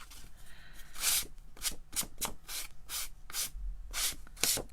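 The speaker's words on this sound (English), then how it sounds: "Trusty little nail file out. Give it a bit of a file off the side" Nail file rasped against the side of a fingernail in short repeated strokes, about a dozen bursts with brief pauses, close and fairly quiet, no talking.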